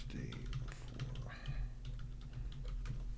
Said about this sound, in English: Sorry that you can hear me typing.